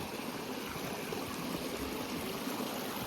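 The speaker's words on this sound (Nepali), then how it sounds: "यहाँ चाहिँ झर्नाबाट आएको पानी होला" Steady, dense rush of water from a waterfall stream on a Mt Mitake hiking trail, continuous and fairly loud with no pauses, no talk over it.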